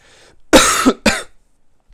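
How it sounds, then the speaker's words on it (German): A person coughs twice in close succession, two loud, close bursts followed by a faint short sound, with no talking, during illness concerns around COVID-19. "ich habe auch hier in dem Video ab und zu mal gehustet"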